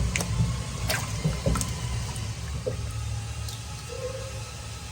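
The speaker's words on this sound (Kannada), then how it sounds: "ಅದಕ್ಕೆ ಕ್ಲೀನಾಗಿ ತೊಳ್ಕೊಬೇಕು ಇದನ್ನ" Homegrown raw mangoes for pickle are washed in water, giving scattered splashes, drips and sloshes up close, uneven and fairly soft, with a brief higher tone near the end.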